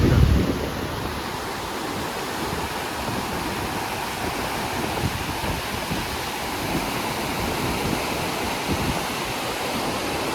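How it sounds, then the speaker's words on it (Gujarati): Floodwater rushing over the Nikol check dam after heavy rain, a loud, unbroken roar of churning water that stays close and constant throughout. "તો પાણી અહીંયા પણ એટલું બધું જાય છે"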